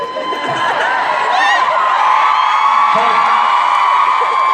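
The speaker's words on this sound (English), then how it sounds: "Hold that thunderous applause for a second, will you?" Panel audience at a Minncon 2016 fan convention whooping, cheering and shouting as a crowd, a loud sustained roar with piercing high whoops throughout.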